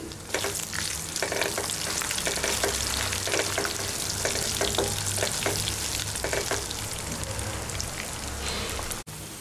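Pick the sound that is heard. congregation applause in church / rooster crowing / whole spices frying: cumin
whole spices frying: cumin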